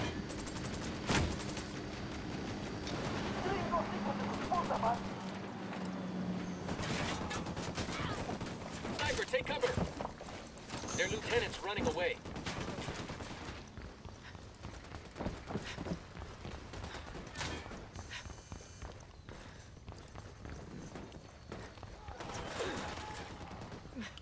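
Video game gunfire in Ghost Recon Wildlands: dense bursts of automatic and single shots clatter continuously across the whole span, mixed with thuds and footsteps, while voices shout over the shooting.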